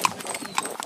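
Horse hooves clip-clopping on a trail ride near a highway, a quick close run of several distinct hoof strikes in under a second.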